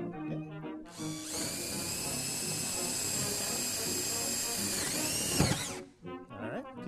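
A power drill bores a hole in a DIY hovercraft build, running loud and steady for about five seconds before winding down, with brief talk and handling noise before and after.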